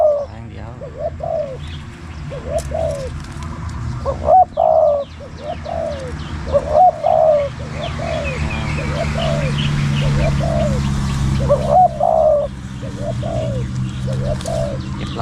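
A spotted dove coos repeatedly in short rhythmic phrases, fairly close, over background chatter and other faint bird chirps.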